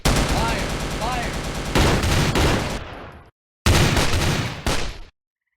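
Gunfire in a battle scene: sustained, loud automatic bursts of rapid shots, up close, stopping abruptly, then a second heavy burst after a short silence, with faint shouting mixed in early on.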